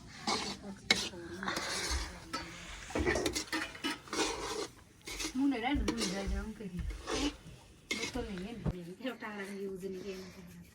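Metal dishes and utensils clatter and scrape while bhature fry in a rural Himachal village kitchen, with irregular clinks and stirring under nearly constant talking.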